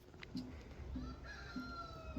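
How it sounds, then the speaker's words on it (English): Roosters crow repeatedly at a distance, their calls faint and recurring every second or so over quiet outdoor ambience. "I hear you, roosters"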